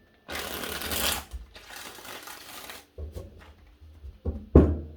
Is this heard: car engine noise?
no